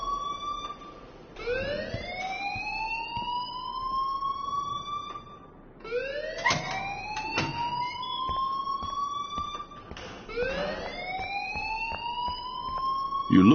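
A video game alarm wails in three repeated rising sweeps, each climbing in pitch and then holding, steady and prominent with short gaps between them.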